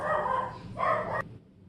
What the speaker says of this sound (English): resounding dog barks corroborating what I just told you guys